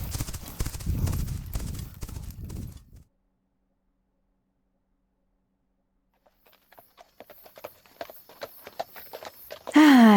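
Horse hooves clip-clop in a steady walking rhythm during a ride, faint at first and then growing clearer, after a stretch of speech and a pause of silence, with a brief louder sound at the very end.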